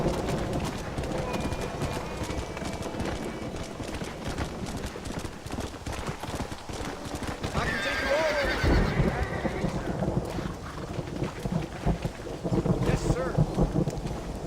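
Horse hooves clip-clop in Red Dead Redemption, with a whinny midway, thunder and rain in the background and someone talking over the galloping.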